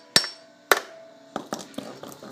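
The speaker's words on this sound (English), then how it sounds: "So I have a little hammer right here. And all you gotta do is just bang it through." A small hammer bangs an axle through on a 1975 Honda CB750, with two sharp, close metallic strikes ringing out separately, then a quicker run of lighter taps, all with no voices.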